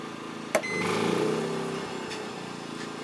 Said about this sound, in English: I think I'm going to hear a surge in the generator